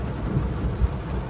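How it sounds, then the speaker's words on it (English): Thunder rumbling through a heavy rainstorm, a low distant roll beneath the constant dense hiss of pouring rain. "We missed the lightning, but I hear the thunder."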